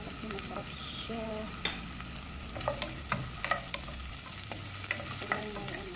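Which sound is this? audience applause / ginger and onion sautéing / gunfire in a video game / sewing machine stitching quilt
ginger and onion sautéing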